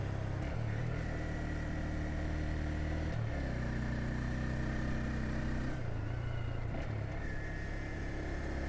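A 2025 Honda Grom small motorcycle engine pulls uphill on Mount Faber, a steady close droning hum with shifting pitch as revs change, loud and continuous with no talking.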